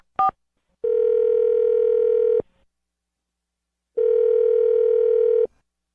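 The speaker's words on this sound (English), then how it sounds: "I'm gonna dial his phone number right now." Telephone ringback on an outgoing call to a radio show guest: a short dialing blip, then two long steady electronic tones separated by a pause, clean and loud with no talk.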